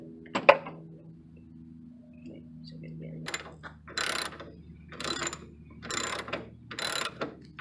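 A screw driven in with a ratcheting driver during a horn replacement on a Toyota Corolla or Camry: a sharp metallic tick, then a hum, then repeated bursts of ratchet clicks, close and moderately loud.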